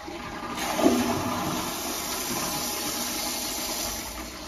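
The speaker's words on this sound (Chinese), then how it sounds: "现在我们打开角阀，准备冲水" A toilet flushing after its inlet filter was cleaned, with the angle valve opened: a loud gush of water rising quickly and then rushing steadily, close by, with no talking.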